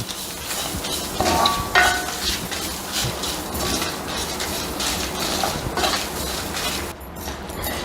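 Grated coconut roasts in a hot pan, giving a continuous crackling sizzle. Nearby clatter and scraping of a utensil against the pan run through it, with no talk.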